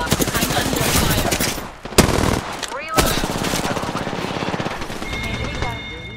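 Rapid automatic gunfire rattles through an Apex Legends firefight, with dense bursts, sharp single cracks and ricochet-like whines, loud and close over game sounds and a voice.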